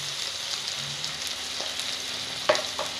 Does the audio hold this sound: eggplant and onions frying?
yes